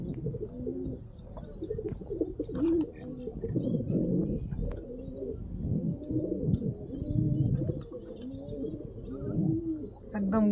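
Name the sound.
Kalshira pigeons cooing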